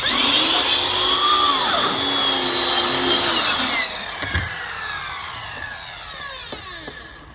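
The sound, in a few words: power saw cutting out silhouette target heads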